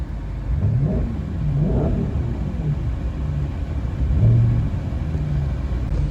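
An Audi RS5 fitted with a track exhaust, partly warmed after a half cold start, revs repeatedly in a deep, loud rumble, with several throttle blips rising and falling over a steady close idle.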